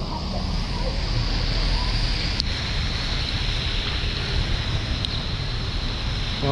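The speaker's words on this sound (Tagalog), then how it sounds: "Oh, ang lakas ng alon ah." Strong ocean waves rolling onto a shore at Tacloban, Leyte, a steady loud wash of surf with heavy wind buffeting the microphone throughout, no talking.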